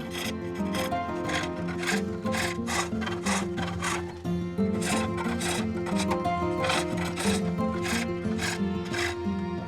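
A groove is cut into the rim of a wooden cylinder being turned into a pulley in a medieval-style workshop: repeated close, rasping scraping strokes in a steady rhythm, with no talking.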